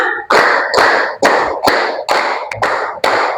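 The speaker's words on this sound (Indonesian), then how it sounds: "Tepuk 1, tepuk 2, tepuk 3, tepuk 4" A class of schoolchildren claps hands in a counted rhythm, about seven loud group claps or slaps spaced roughly half a second apart, close and punchy with short gaps between.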